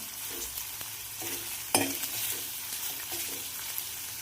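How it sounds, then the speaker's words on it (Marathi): Okra and onions sizzle steadily in a hot pan while a utensil stirs them, with soft scraping strokes and one sharper clatter partway through, close and alone. "आता कांद्यासोबतच भेंडी परतून घ्यायची."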